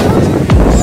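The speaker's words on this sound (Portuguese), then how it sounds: "O mar tá um pouco agitado" Rough sea surf rolling in at Boa Viagem beach in Recife on a rainy, crowded day, a broad continuous wash of waves with a swelling surge midway, mixed with wind buffeting the microphone.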